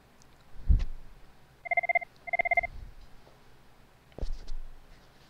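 Incoming call alert in call center software, two short double-pulsed electronic ring tones in the middle, fairly quiet, with soft clicks and handling noises around them.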